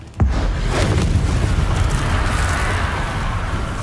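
Confringo fire spell in Hogwarts Legacy bursting with a sharp close boom, followed by a sustained roaring rumble that stays loud to the end.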